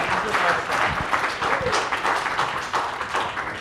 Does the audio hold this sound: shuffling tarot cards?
no